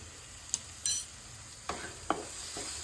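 Mushroom masala base with a pinch of garam masala frying in a pan, a faint soft sizzle broken by a few sharp clinks and scrapes of a spoon stirring, close and without talk.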